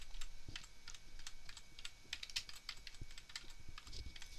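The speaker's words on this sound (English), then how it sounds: "So I'm going to go ahead and type the words transform yourself." Typing on a computer keyboard while entering point text in Adobe Illustrator, a steady run of light, close key clicks with no talk.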